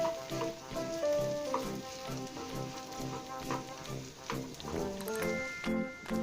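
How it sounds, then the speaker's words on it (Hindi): Sweet potato halwa being stirred in a pan as it cooks, soft repeated scraping and squelching strokes over a low sizzle, close and moderately quiet. "कंटिन्यूस इसे चलाते रहिए आप हलवे को"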